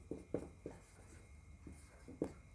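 Pen or pencil writing a maths question by hand on paper during a Class 11 sets lesson, a few short scratchy strokes in irregular bursts, faint and close, with no talk.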